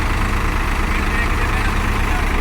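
Two tractors, a Swaraj 744XT and a New Holland 3600, idle side by side with a steady, close, low rumbling drone that holds even throughout.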